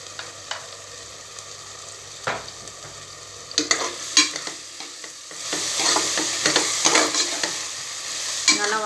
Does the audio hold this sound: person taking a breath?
no